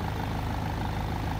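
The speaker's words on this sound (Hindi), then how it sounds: "अभी हो गई है कार स्टार्ट" A BMW 520d four-wheel-drive car engine idles just after starting, giving a steady, smooth low hum at even loudness with no revving and no voices.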